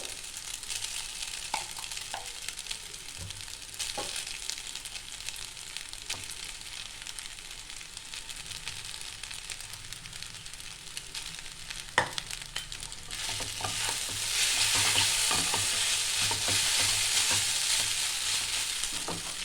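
Mixed vegetables for egg chowmein hit a hot pan and are stir-fried, giving a steady close sizzle with scattered scraping clicks that swells into a louder, brighter hiss partway through.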